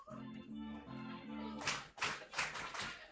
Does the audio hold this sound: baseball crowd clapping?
yes